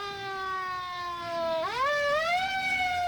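A police siren opens a 1970 song, with a steady electronic wail holding one pitch and then sweeping upward into a higher rising tone, clear and moderately loud.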